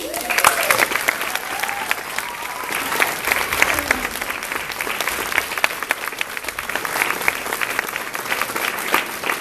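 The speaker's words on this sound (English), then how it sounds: "so just a little special round of applause" An audience claps at a choir concert with sustained, lively applause at close range. A few voices and brief tones rise over it near the start before the clapping carries on alone.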